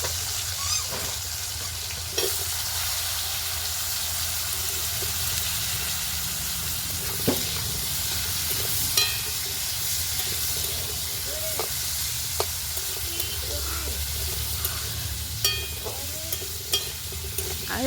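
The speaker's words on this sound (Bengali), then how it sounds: "আলুগুলোকে আমি হালকা ভাজবো" Potatoes lightly frying in a pan in a Bengali home kitchen, a continuous soft sizzle and hiss with occasional clinks and stirring taps throughout.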